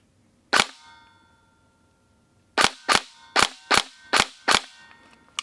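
Airsoft gas blowback pistol fired indoors during a home drill: one sharp crack, a pause of about two seconds, then a quick run of six snappy shots with brief metallic ringing between them, loud and close.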